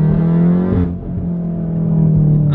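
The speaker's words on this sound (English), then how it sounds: "that noise you hear is the power cutting" MK7 Golf R engine in second gear pulling hard, then its power briefly cutting out as the front wheels lose grip, a loud close drone that dips and recovers.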